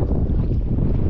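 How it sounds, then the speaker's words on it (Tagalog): Strong wind blowing across open sea on a small fishing boat, a steady, loud low rumble of gusts buffeting the microphone with faint water movement, continuous and without talk. "medyo may kalakasan ng simoy ng hangin"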